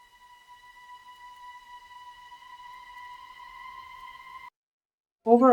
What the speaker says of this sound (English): pad sound effect from here. It sounds something like this.